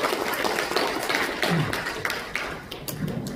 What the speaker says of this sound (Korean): 박수 해주시면 감사하겠습니다